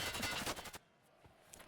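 Automatic gunfire sprays in the Halo video game: a dense, loud rattle of shots lasting under a second, then dropping to near quiet with a couple of faint distant pops.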